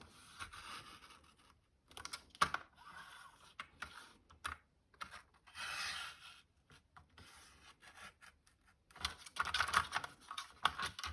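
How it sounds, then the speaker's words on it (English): Paper card cut between score lines on a Christmas split panel card, heard as quiet scratchy rasps in short bursts separated by gaps, close and soft with no talking. "So I'm just going to cut between them score lines."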